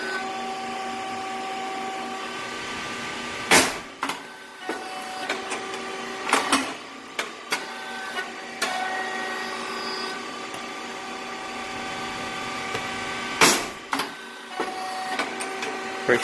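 A 9002 rice cake popping machine running on Korean rice hums steadily, with sharp loud pops every few seconds and smaller clicks between them; no voices.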